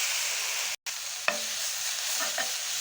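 Jute leaves (pat shak) frying in a pan with a steady close sizzle, broken by a brief stir and a couple of scrapes, with no voices.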